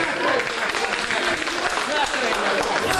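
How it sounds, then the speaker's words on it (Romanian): Wedding guests applaud the bride and groom at a Romanian-language celebration, a dense, steady wash of clapping sustained for a few seconds, with voices mixed in. "Aplauze încă o dată mirilor noștri."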